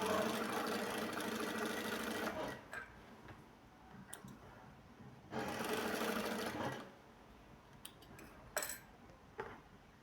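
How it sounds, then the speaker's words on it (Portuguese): A sewing machine stitches small patchwork fabric scraps for a rug in two steady, loud, rapid-running bursts separated by a pause filled with faint handling clicks and taps. "Vamos costurar ele aqui."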